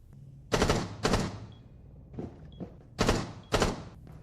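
Video game gunshots in a small, carpeted room, dry and tight with little echo: four pairs of sharp, loud shots spaced apart, with softer thumps in between.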